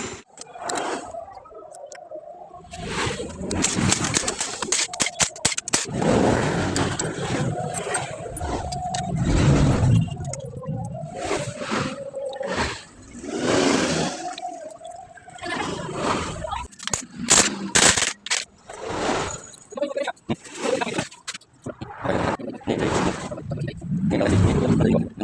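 A motorcycle engine with a rough, juddering clutch runs and revs in uneven surges, rising and falling in bursts close by, while someone talks over it at intervals.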